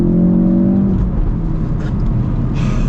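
A Ford Focus RS engine revs loudly and pulls hard from a standstill, its rising tone shifting as it accelerates close by, with no talking.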